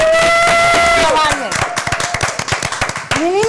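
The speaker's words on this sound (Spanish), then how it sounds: "¡Aplausos!" A studio audience claps in a rhythmic cluster of sharp hand slaps, loud and close, following and overlapping a voice calling out at the start, with a brief shout rising again at the end.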